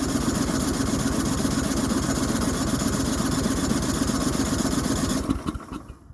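A small engine fitted with a cheap replacement carburetor runs cold with a steady, fast, loud pulsing chug. After about five seconds it abruptly cuts out and falls quiet.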